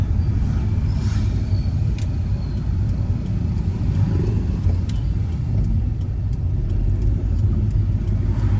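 Car passing by: a loud, continuous low rumble of an engine and road noise close to the listener, steady throughout with faint clicks and ticks on top.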